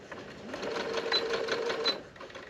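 A sewing machine runs steadily, stitching fabric for a partridge-in-a-pear-tree Christmas project about an inch in from rough edges, a close, continuous whirring hum with slight speed surges and no talking.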